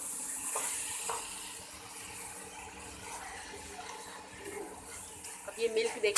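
Grated carrots frying in milk in a pan for gajar halwa give a soft, quiet sizzle and bubbling with occasional stirring scrapes, faint and steady throughout.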